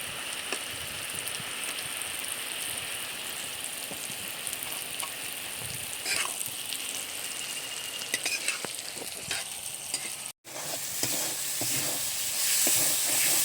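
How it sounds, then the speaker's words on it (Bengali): Chopped cabbage with tomato stir-fried in a pan, a steady close sizzle and frying crackle with occasional scrapes as it is tossed, continuing throughout without speech. "এবার বাঁধাকপিটা নেড়ে চেড়ে ভেজে নেব"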